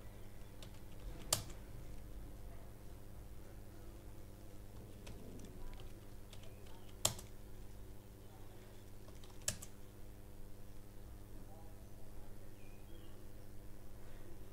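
A computer keyboard typed on while entering a password during a Linux software install, with faint quiet key taps and a few sharper clicks over a low steady hum.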